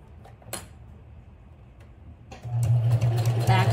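A sewing machine back stitches while a simple bag is being made. A few soft ticks and clicks come first, then the machine whirs into a steady, close mechanical hum with a fast rhythmic chatter.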